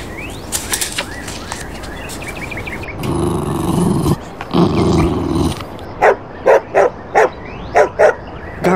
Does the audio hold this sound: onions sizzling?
no